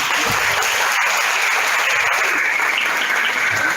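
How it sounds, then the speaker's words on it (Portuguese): An audience at a lecture in Recife claps steadily to welcome the day's speaker, a dense, continuous wash of applause with no talking over it. "recebam com muitos aplausos o nosso palestrante de hoje"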